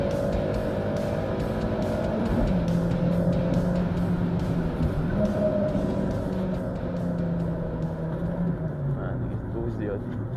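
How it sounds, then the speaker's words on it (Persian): A Peugeot 206 hatchback drives in a hidden sport mode, its engine droning steadily from inside the cabin with shifting revs, while someone talks over it throughout. "ماشین روی حالت اسپورت موده."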